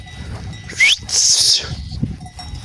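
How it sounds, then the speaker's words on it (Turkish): Bells hung on rams jingle among a flock of sheep at a highland summer pasture, with a couple of loud, brief bleats rising over the steady clinking and a faint voice in the background. "Ee, bu çanları bize yolladı. Koçlarımıza taktık."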